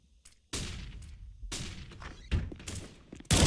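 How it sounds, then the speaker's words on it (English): Flashbang grenade and gunfire in the tactical shooter game Department, a series of sharp bursts and thuds with one loud bang at the end, separated by brief quiet gaps. "Throwing flashbang."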